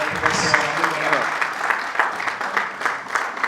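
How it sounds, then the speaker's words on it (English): Guests at an engineering class reunion dinner in a hotel clap steadily in a dense round of applause, with a speaking voice carrying over it at the start. "A big round of applause for Professor Adekola."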